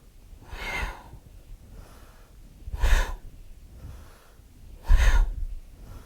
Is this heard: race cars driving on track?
no